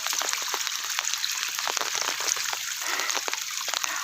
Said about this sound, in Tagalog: Hay, nag-ulan.